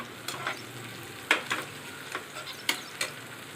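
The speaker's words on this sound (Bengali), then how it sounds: "একটু নরম করে ভেজে নেব।" Soybean chunk curry ingredients sizzle in a pan, with a steady fry hiss broken by several sharp scraping stirs of a spatula close by.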